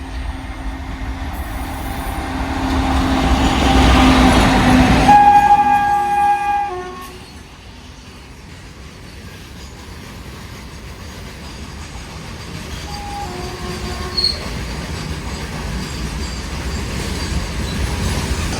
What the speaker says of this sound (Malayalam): കുറേ നേരം കഴിഞ്ഞിട്ട് ഇപ്പോൾ ഇലക്ട്രിക് വെച്ചൊരു ഗുഡ്സ് ട്രെയിൻ വരുന്നത്